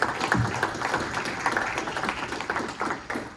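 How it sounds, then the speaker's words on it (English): At a Community College of Philadelphia men's engagement gathering, a small group claps in an uneven, busy patter, moderately close, the sound fading slightly toward the end. "Clap it up."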